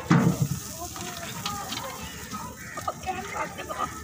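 Ghee, 4 kg, sizzling in a large cooking pot over a stove while making egg pulao, a soft steady hiss and crackle under a man's speech, rising briefly louder at the start.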